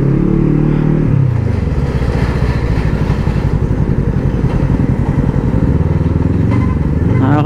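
A motorcycle engine revs loudly nearby, the throttle blipped up and dropping back to a rough, throbbing idle between rises over several seconds.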